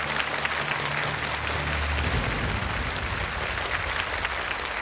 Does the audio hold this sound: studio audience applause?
yes